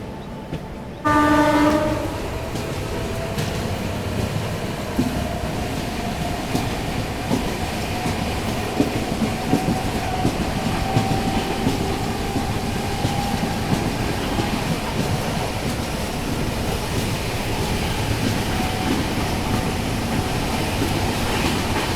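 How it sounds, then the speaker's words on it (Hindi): A WAP-7 electric locomotive hauling the Naharlagun–Guwahati Shatabdi Express pulls away on a green signal. After a short horn blast at the start, a steady, loud rolling roar builds as the train gains speed. "बढ़िया एक्सेलरेट किया है अभी अपने वेब 7 लोकोमोटिव ने"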